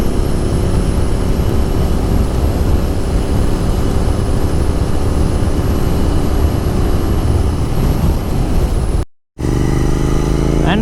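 A Royal Enfield Continental GT 650 fitted with a Red Rooster exhaust cruising in sixth gear, a steady loud engine and wind drone holding throughout, briefly cutting out near the end.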